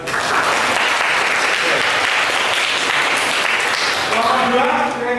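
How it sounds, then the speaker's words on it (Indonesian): A room full of people applauding at a school, dense continuous clapping at steady loudness, with a voice speaking over it near the end. "Beri tepuk tangan buat"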